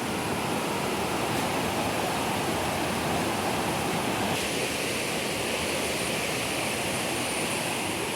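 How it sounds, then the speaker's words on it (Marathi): Waterfall beside Marleshwar temple in Konkan, a steady, loud broadband rush of falling water that fills the whole stretch without pause or voices. "या साईडला बघा वॉटरफॉल आहे, धबधबा आहे"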